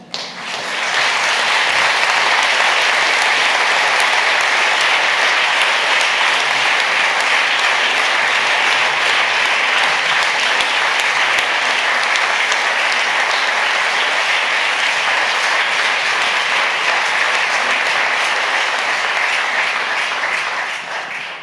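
Sustained audience applause at a public summit in Utrecht, dense and steady clapping from a large crowd that holds at full strength for about twenty seconds before easing slightly at the end.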